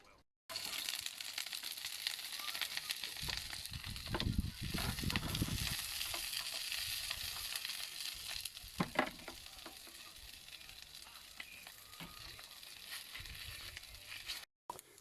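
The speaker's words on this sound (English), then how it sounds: "Can take it out and do a bit of a stir fry now." Sliced cabbage stir-fries in a pan on a gas cooker outdoors at a campsite, with a continuous hiss and crackle, a burst of louder sizzling and scraping partway through, then an occasional clink, all nearby.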